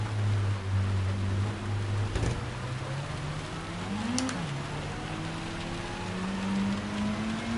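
Rain falls in the Gran Turismo 7 racing game with a Renault race car in Gr3 class, a steady hiss of rain under a droning engine whose pitch climbs and dips as the car accelerates and shifts, without talk.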